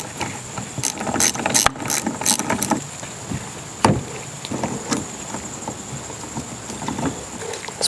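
Hand tools working on a Yamaha Tmax 500 scooter during restoration, a Phillips screwdriver removing screws: close clicking, ratcheting and metallic rattles in irregular bursts, with a sharp knock partway through.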